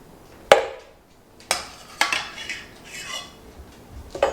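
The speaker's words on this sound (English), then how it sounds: "I just did this using a slotted spoon." A few sharp metallic clinks and scrapes of a slotted spoon against a pot while scooping potatoes, spaced irregularly, with no talking.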